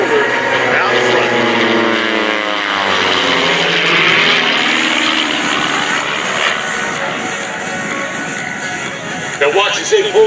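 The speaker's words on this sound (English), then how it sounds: "Watch now as he fly these highly modified Vans RV-8 aircraft from over your shoulder out front" A highly modified Vans RV-8 flies overhead at an airshow, its engine and propeller making a loud, sustained drone that sweeps past with a Doppler shift and fades, while an announcer's voice carries over it.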